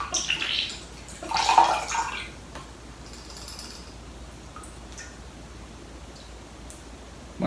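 Coolant drains and trickles out of an Enermax Liqtech AIO liquid cooler in a close, watery splash and drip that is strongest early on and then settles into a soft, steady trickle, with no talking.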